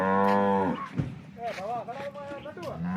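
A cow gives one long, deep, resonant moo at close range. A person then talks over farm background noise, and a second, shorter moo starts at the end.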